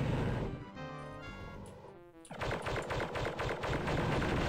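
Rapid bursts of automatic gunfire from the Star Wars shooter game Dark Forces, loud, dense rattling volleys that pause briefly and then resume as sustained fire, with no voices over the shooting.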